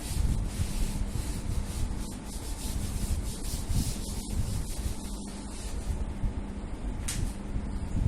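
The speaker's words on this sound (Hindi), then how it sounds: "मैं सारा पार्ट रब कर रहा हूं" An eraser rubs writing off a classroom board in a continuous close scrubbing sound, with quick back-and-forth strokes and a faint breathy hiss throughout, with no speech.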